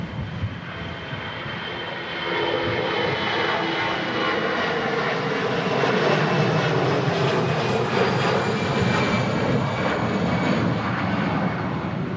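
An EasyJet airliner departs Manchester Airport for Geneva in strong crosswinds. Its engine roar swells after about two seconds into a loud, steady, broadband rush that holds for the rest of the stretch.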